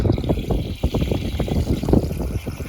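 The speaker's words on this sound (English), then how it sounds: "open the faucet and you get non-chlorinated natural water" Water runs from the faucet of a full rain catchment barrel in a garden, a steady close trickle and splash that continues without a break.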